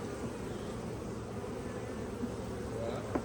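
Honeybees buzzing around an open beehive, a steady dense hum of many insects close by, continuous and even throughout with no voices.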